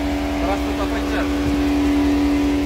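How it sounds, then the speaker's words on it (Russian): Inside a Mercedes Sprinter van fitted with a 5-liter G-Wagen engine, a steady engine hum and road rumble run throughout, with a few faint clicks and shifts heard close in the cabin. "5-литровый мотор Гелендвагена."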